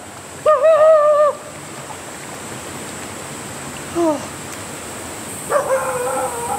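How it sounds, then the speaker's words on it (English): Stray dogs bark at a roadside campsite in Korea, a quick run of barks near the start, a short yelp midway, then another burst near the end, over a steady hiss of running water. "The dogs are chasing away all the rats or whatever around here to keep barking."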